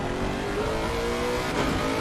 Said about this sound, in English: Just hear the traction control just kicking in there as he made his way through the exit of the source